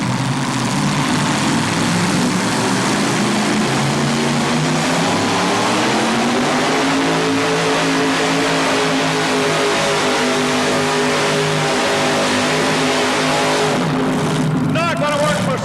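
A Chevrolet S10 truck from Warsaw, Kentucky roars at a 1987 truck event, the engine revving loud and close with rising and falling pitch under a continuous crowd and announcer din.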